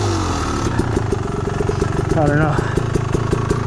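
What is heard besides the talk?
Beta Xtrainer enduro motorcycle engine riding over rocks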